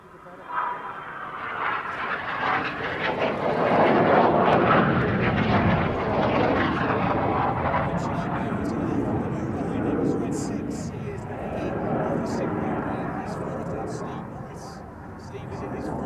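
Aerobatic Cyclone airplane engine roaring steadily for the whole stretch, a loud broad drone that swells and dips slightly, with a narrator talking over it.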